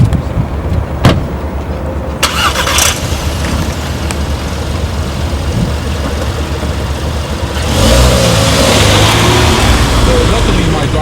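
A 2015 VW Golf GTI out on the road, its engine humming steadily under road noise, with a few clicks early on, then a louder swell as the car speeds up, and a voice speaking over it.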